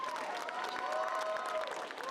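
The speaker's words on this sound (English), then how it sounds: "round of applause for such amazing legends on stage" Convention audience at a nostalgia fan event in Houston applauding the guests on stage, a dense, steady wash of clapping from a large crowd with faint voices mixed in, fairly distant and even throughout.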